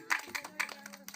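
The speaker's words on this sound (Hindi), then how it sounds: "तालियां बजाओ।" Audience at a Lakshman Shakti Ramlila performance clapping in a few brief, scattered bursts, fairly faint and short, with a hint of voices mixed in.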